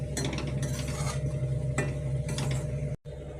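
Semolina and ingredients dry-roasting in a pan for wheat idli, with repeated scraping and stirring strokes of a spoon against the metal, steady and close, a low continuous hum beneath, no talking.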